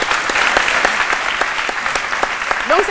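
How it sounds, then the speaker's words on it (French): Brisk studio audience applause on a French midday talk show, a loud dense clatter of many hands clapping close by, with a brief voice rising near the end. "Ben, je crois que ça doit s'applaudir."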